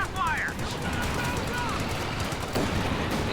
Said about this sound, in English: Oh, what a shot by the mortar!